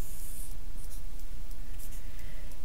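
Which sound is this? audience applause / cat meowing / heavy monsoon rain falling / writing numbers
writing numbers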